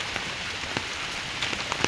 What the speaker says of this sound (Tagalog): Wala namang humpay ang ulan.